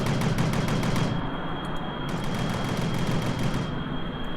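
Aircraft turrets firing in Kerbal Space Program, rapid rhythmic bursts of automatic fire over a constant loud engine roar, stopping and restarting partway through.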